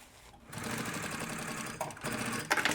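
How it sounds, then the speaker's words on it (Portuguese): A sewing machine runs a steady, fast stitch along a puffer backpack seam, a close, busy whir that briefly pauses and then restarts with a short burst. "E aí eu vou passar uma costura para rebater."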